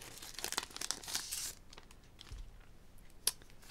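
Pokémon card booster pack being torn open, a few quick crinkly rips of foil wrapper close by, followed by quieter rustling and one sharp snap near the end.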